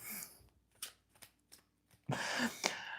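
A deck of tarot cards is shuffled by hand, quiet riffles and soft card flicks in short bursts, then a louder, longer riffle near the end, close and faint with no speech over it.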